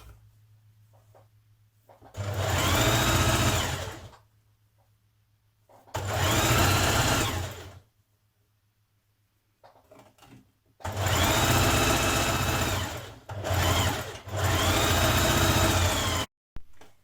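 A sewing machine stitches the side seam of a Burda 6313 blouse in four close, loud whirring runs separated by short pauses, with no talking.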